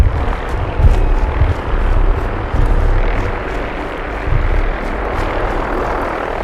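A helicopter in the video game Fallout 4 gives a loud, steady rotor and engine roar with rhythmic chopping thumps, filling the whole stretch without speech.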